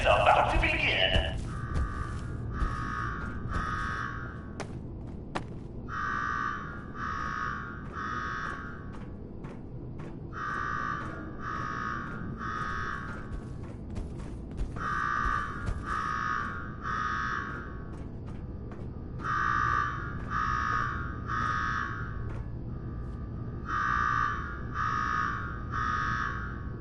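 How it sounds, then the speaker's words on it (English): Repeating electronic alarm in the Fallout 4 Nuka-World game, sounding in regular bursts of several rapid tones separated by short pauses, moderately loud over a low background rumble. "Now go shut off that damn alarm."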